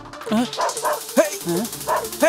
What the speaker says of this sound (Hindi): कुत्ते कहाँ भौंक रहे?